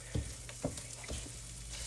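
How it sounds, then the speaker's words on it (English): Food sizzles and crackles in a hot pan, with a few soft stirring scrapes and no talking. "Oh, we're sizzling now."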